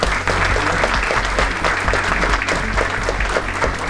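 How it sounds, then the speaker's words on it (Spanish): A conference audience at a cybersecurity banking and government congress in Lima applauds loudly and continuously, dense clapping filling the whole stretch. "otro fuerte aplauso para ellos"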